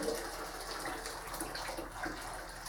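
Hot tap water runs steadily into a sink filled for washing up, a continuous broadband gush and splash at close range with no talk over it.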